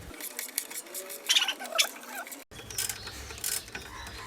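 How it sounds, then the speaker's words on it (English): A ratchet loosens the bolts joining a CRF 250L's stock exhaust to its header pipe, making close metallic clicks and clanks in short bursts with small tool rattles. "remove the 3 bolts that is connecting the stock exhaust with the header pipe"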